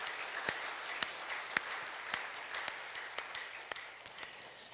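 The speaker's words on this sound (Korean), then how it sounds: "우리 박수로 한번 격려하며 하나님께 영광 올리겠습니다" A church congregation gives a round of applause during a Sunday service, steady quiet clapping from many hands with a few sharper claps standing out, heard alone without talk.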